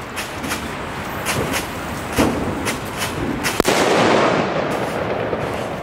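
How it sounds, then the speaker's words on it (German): Loud firecrackers exploding outdoors, several dull bangs spread through the stretch and one sharp crack near the middle, heard over a steady rushing background. "Eins lautes Böllers."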